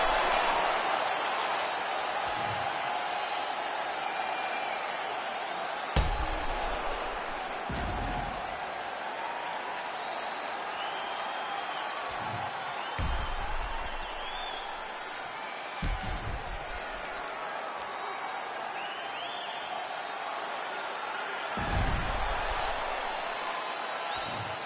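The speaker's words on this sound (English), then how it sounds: "Stand and cheer, ladies and gentlemen." Arena crowd at a full-length fight cheering and applauding at the finish, a broad steady roar with scattered claps and thumps under an announcer's voice.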